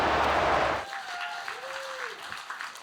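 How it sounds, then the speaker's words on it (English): A burst of audience applause at the British Esports Student Champs Rocket League grand final fills the first second, then cuts off abruptly, leaving a quieter room with faint tonal sweeps. "Rightful applause from the audience as the Vikings do get one back on the board."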